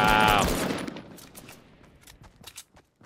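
Rapid bursts of automatic gunfire in Fortnite on Nintendo Switch, a loud burst at first, then scattered sharp shots fading to quieter cracks, with a brief voice among them.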